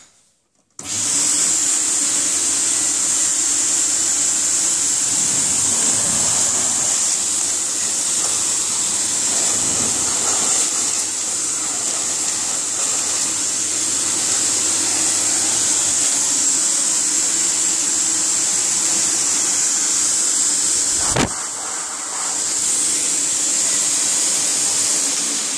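A 1990 Electrolux Dolphin Z2210 vacuum cleaner runs steadily and close by with a smooth, even motor drone and a high whine, alone for the whole stretch apart from one brief dip near the end.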